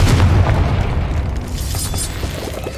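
A Confringo fire spell explosion from the Hogwarts Legacy video game: a loud, deep booming blast at the start that rumbles and fades over a few seconds, with no talk.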